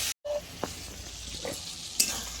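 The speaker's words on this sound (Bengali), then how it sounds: "টমেটোটা হালকা ভাজা হয়ে গেছে" Chopped tomato fries lightly in a pan with tempered spices, giving a soft, steady sizzle broken by a few brief clinks and scrapes of stirring.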